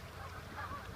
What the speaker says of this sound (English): Those are Canada geese.